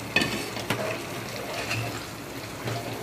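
Mutton pickle with ground pickle masala and juice frying in a pan, soft steady sizzle with a few sharp clinks of a spoon against the pan.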